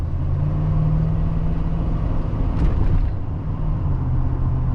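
Inside a 1994 Dodge RAM 1500 Laramie SLT pickup with a four-speed transmission, a steady low engine and road drone holds throughout at road speed, loud and continuous with no talking.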